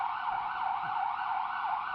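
A police-escorted cash convoy arrives at the National Bank of Poland's main gate on Świętokrzyska Street in central Warsaw, its siren wailing loudly and steadily up and down in a regular rising-falling cycle, close by and with no talking.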